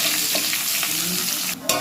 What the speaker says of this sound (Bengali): পেঁয়াজটা দিয়ে এবার ভেজে নিতে হবে।